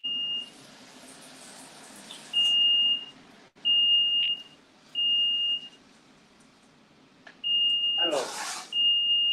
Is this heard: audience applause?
no